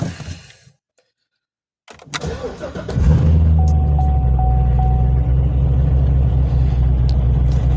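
A C7 Corvette engine cranks and fires up after a moment of silence, then settles into a loud, steady rumbling idle close by, with a faint electronic chime sounding as it runs.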